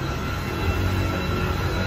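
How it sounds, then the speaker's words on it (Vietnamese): A train passes loudly along a busy Saigon street at night, a steady dense rumble of railcars with a rolling low roar and a high metallic whine running throughout, close by and with no voices. "Xe lửa chạy tiếp à."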